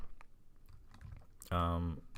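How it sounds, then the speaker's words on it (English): Typing on a computer keyboard, a run of quiet, scattered key clicks that continues until a person starts speaking over the end. "So I type in echo as my friend's name."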